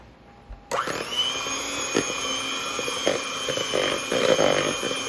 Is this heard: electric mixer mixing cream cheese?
yes